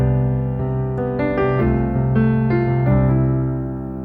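Guitar arpeggios picked over an anchored bass note, with individual notes rolling out in a flowing, syncopated rhythm and ringing together before fading at the end, close and alone.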